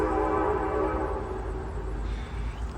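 A train rumbling past close by outdoors beside a house, a loud steady low roar with rolling rhythm that holds throughout and eases slightly toward the end.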